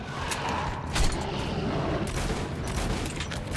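A four-shot shotgun fires in the video game Metro Last Light, loud, dense blasts layered over a continuous roar of battle noise with no pause.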